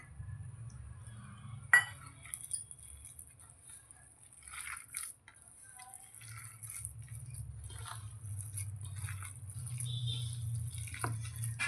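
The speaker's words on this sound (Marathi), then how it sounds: "हे सगळं व्यवस्थित असं मिक्स करून घेऊया" Cabbage being mixed by hand with flour and 65 masala for veg 65, soft wet squishing and kneading sounds with a few faint bowl and utensil clicks, quiet and close.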